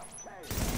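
Automated turrets firing in The Division, a short loud burst of rapid shots that kicks in abruptly after a brief quieter moment.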